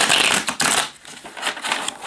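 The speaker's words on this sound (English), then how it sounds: "I'm just going to take the deck and shuffle until I feel an energy shift or I feel that the cards are ready to be read" A deck of tarot cards shuffled by hand up close, giving quick papery bursts of riffling and rustling in an uneven rhythm, with no talking.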